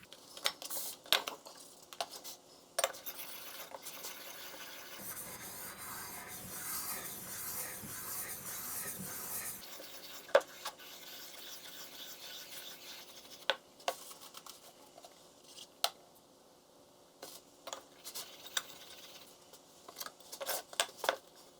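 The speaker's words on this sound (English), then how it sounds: "work the back of that iron on my fine stone, make sure it's really well polished" The back of a plane iron is rubbed on a fine sharpening stone to polish it, with gritty scraping strokes, one longer continuous stretch of rasping and scattered sharp clicks of steel on stone.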